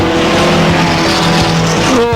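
A sprint car at a 1992 Australian dirt-track race slides sideways out of turn four, its engine roaring loud and close with a rising howl as it powers out of the slide.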